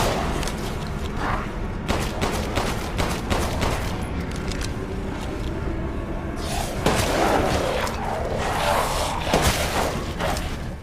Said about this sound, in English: The same goes for mowing down zombies with a shotgun.